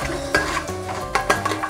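Spices for chicken biryani being stirred in a pan over low flame, a utensil scraping and clinking in short strokes with a soft sizzle beneath, close and alone.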